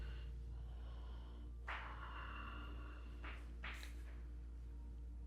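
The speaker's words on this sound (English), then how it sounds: "Just a couple breaths here." A few soft, quiet breaths in and out, taken while sitting tall in a seated yoga pose with hands on the floor by the hips, spaced a second or two apart against a low steady hum.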